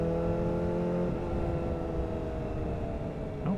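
A motorcycle leans through a small roundabout on residential streets, its engine a steady close drone with held harmonic tones that dip and shift partway as the throttle eases, under constant wind rush and no talk.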